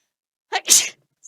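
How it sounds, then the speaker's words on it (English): A single sharp human sneeze, a quick intake then an explosive burst, close and loud against near silence. "I was gonna say I was gonna sneeze, and then I just sneezed."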